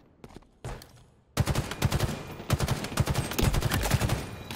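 Gunfire in the Halo Infinite video game, a few faint shots, then a sudden loud stretch of rapid automatic fire with dense repeated bursts continuing to the end.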